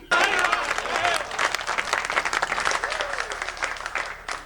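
A large audience at a Hindi comic poetry gathering (Hasya Kavi Sammelan) bursts into sustained applause, with dense, steady clapping throughout and a voice briefly heard beneath it.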